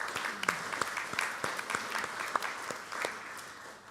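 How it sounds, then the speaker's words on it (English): A small crowd claps steadily, a scattered round of applause at moderate distance with no talking over it. "Let's have a round of applause for everyone for"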